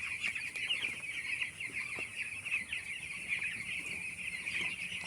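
A crowd of 12-day-old broiler chickens clucking and chirping continuously at close range, a dense overlapping chorus with no speech.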